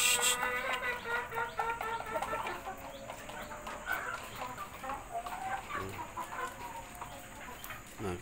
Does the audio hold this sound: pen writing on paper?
no